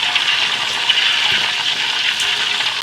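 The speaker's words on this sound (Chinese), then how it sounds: "凉水浸泡一下。" Cold water pours in a steady, loud gush over fried pork tails in a basin, a continuous close splashing flow with no speech.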